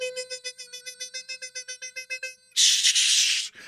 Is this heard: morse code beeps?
yes